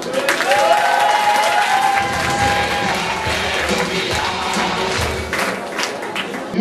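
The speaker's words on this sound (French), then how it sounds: "je pense qu'on peut l'applaudir" Audience applause for Johan at a cabaret evening, steady clapping throughout with a few thumps and tonal background noise, no talk.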